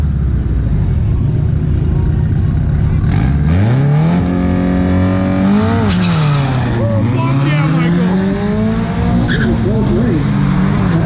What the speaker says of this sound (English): That thing launched super good. That was a really good launch.